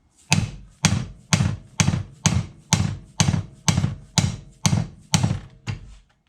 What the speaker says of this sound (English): I'm using a pretty soft hammer here.